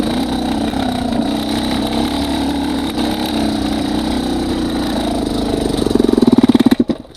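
A motorcycle engine fitted with a SmartCarb SC2 carburettor idles roughly and loudly up close, then the rough idle falters into a few heavy chugs and the engine stalls, falling quiet at the end.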